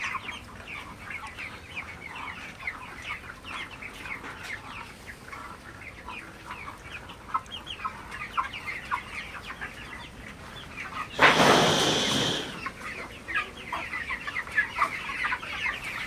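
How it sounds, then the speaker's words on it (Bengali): Broiler chickens clucking while eating feed in a shed in cold weather: many close, busy overlapping clucks and chirps throughout, interrupted by one loud brief rush of noise midway. "মুরগিগুলো খাবার খাই"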